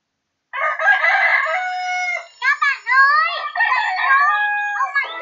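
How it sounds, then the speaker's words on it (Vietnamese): A rooster crows several times in a row, loud and close, with long drawn-out calls and a short break in the middle. "Chú gà báo hiệu cho chúng ta biết một ngày mới vừa mới bắt đầu"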